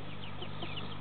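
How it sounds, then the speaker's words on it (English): Young Barnevelder chicks raised from an incubator cluck softly in a brief, quiet burst with low background hum, no talking. "these young chicks over here, these are some barn velders that I hatched in my incubator"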